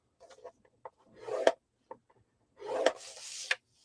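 Paper is scored on a scoreboard tool with two short scraping strokes, close and quiet, and a few light taps between them.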